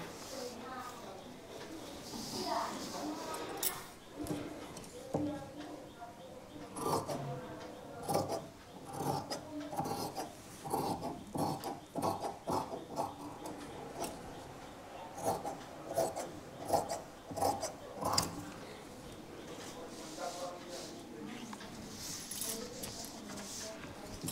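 Scissors cutting through cotton blouse fabric on a table, a steady run of rasping, crisp snips and sliding rubs at close range, with a person speaking over parts of it.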